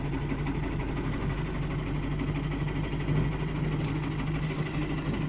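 A small motor runs at reduced speed on power from a lightweight flexible solar panel, giving a steady, low, continuous hum. It is fairly close and does not change much from start to finish.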